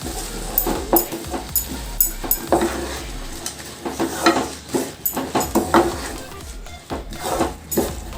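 Rice being stirred in a pan for green peas pulao gives irregular, fairly close scrapes and clinks of a spoon against metal, repeating throughout.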